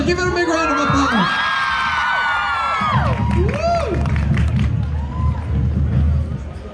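An anime convention crowd at a Miraculous Ladybug panel claps, cheers and whoops loudly, with high shrieks and shouts rising over the applause before a deeper roar of clapping takes over and fades near the end.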